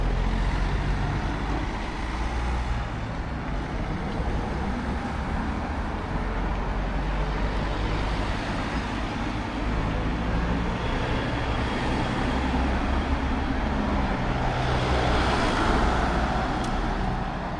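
Steady road traffic on Station Road in Bourton-on-the-Water in the Cotswolds: cars and heavier vehicles rumble and hiss past continuously nearby, with swells as individual vehicles pass.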